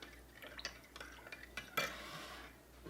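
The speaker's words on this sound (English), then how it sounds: "And then I'm just going to mix this together." A spoon stirs a lemon juice mixture in a bowl for a roast chicken marinade, with quiet repeated scrapes and clinks and one sharper knock near the end, close and fairly soft with no talk.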